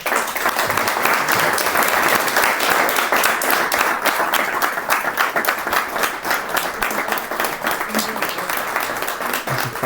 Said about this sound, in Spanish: Magnífica el aplauso